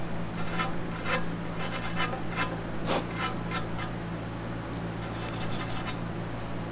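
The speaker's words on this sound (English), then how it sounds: "You always take a dedicated brush for aluminum" A dedicated brush scrubs a cracked aluminum wheel before welding, giving a steady run of close, dry scratching strokes with a faint hum underneath.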